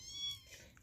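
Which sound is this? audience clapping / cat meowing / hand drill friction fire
cat meowing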